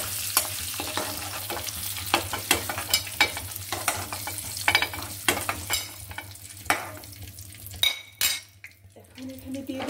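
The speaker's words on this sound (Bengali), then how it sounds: "একটু হালকা করে ভেজে নেব।" Potatoes and egg frying in a pan, stirred and scraped with a utensil, give a steady sizzle broken by frequent clinks and knocks against the metal. Near the end the stirring pauses briefly, then resumes.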